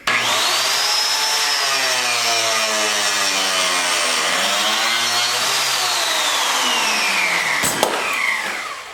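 Power saw cutting a wood board for a cabinet build, a loud continuous high whine whose pitch sags and recovers as the blade bites, ending with a sharp clack.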